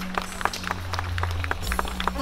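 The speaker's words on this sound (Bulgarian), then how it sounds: "Моля, аплодисменти за младоженеца." Guests clap for the groom during a wedding vow ceremony, scattered individual claps over a steady low hum, with a louder cluster near the end.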